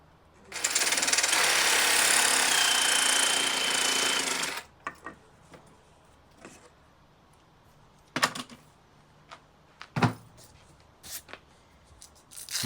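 A power saw fitted with an aluminium blade cuts PVC vinyl click flooring in a loud, steady buzzing run of about four seconds, then stops, leaving scattered handling knocks.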